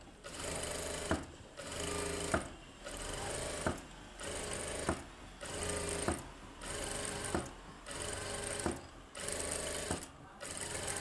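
A sewing machine stitches a round back-neck design, running in about nine steady bursts of loud, close whirring, each separated by a short pause.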